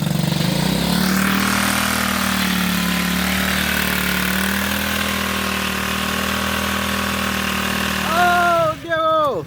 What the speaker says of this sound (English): Freaking motorcycle could do burnout like nothing.